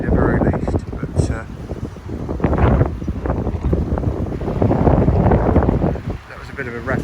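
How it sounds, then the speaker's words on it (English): Blustery wind buffets the microphone outdoors near the Tamar Bridge by the water, a loud continuous roar with gusty surges that swell and ease across the whole stretch. "The weather is blustery, to say the very least"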